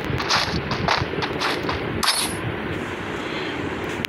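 Rapid rifle gunfire from an M4A1 and a G18 pistol in a shooter video game, dense repeated shots loud and close, continuous throughout with no talk.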